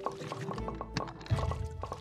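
Water being drawn out in the game Graveyard Keeper, heard as a string of small, evenly spaced liquid drips and splashy pops over low game ambience, moderately close and fairly quiet.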